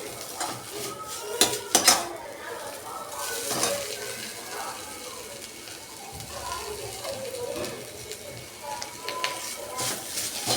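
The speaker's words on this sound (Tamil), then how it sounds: "தேங்காய் திருவல் போட்டு கிளறிட்டோம்" A spatula clanks and scrapes against a pan while beetroot stir-fry with grated coconut is mixed, with sharp metallic knocks early on and a soft sizzle underneath, alongside a little background talk.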